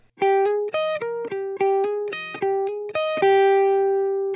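Distorted electric guitar plays a riff an octave higher, a quick run of clipped single notes ending on a long sustained note, loud and alone.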